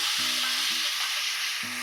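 Hotdogs sizzling in a pan give a steady, bright hiss of frying fat that continues without a break through the short moment, close and fairly loud, with no talking.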